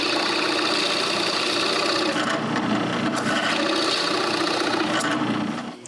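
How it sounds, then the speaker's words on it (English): A drill bores magnet holes into a wooden box lid with a loud, continuous whirring grind that dips briefly partway through and fades at the end. "I can drill the holes for the magnets I intend to put at the back of the lid."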